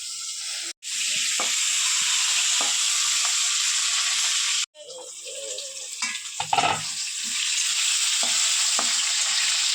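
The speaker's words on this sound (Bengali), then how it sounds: "আলুটা কিন্তু হালকা লালচে করে ভাজা হয়ে গেছে" Potatoes fry in a pan with a loud, continuous sizzle, interrupted by two brief cutoffs and some stirring clatter partway through, while cooking a catfish curry.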